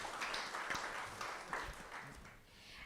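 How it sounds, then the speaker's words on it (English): Scattered applause from a seminar audience as a panelist is invited up, fairly faint and distant, with individual claps audible and tapering off toward the end. "Give applause."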